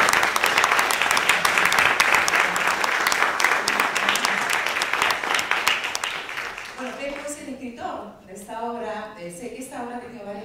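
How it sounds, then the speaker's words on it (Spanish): Dense audience applause fills a theatre forum for about six seconds, then dies away as a voice begins talking. "Un aplauso, ¿no?"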